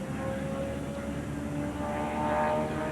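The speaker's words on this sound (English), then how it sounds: "Screaming engines on the racetrack" NASCAR stock car engines roaring on a racetrack during 1995 Winston Cup Series qualifying, a continuous loud droning engine roar sustained throughout with no talk.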